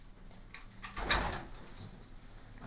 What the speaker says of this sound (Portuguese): Tá aí os pigaços aí, ó.